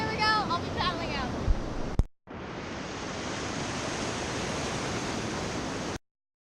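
Ocean surf roaring steadily as a surfer paddles out on a longboard at the beach, a broad wash of breaking waves close to the microphone after a brief stretch of talk and a short cut.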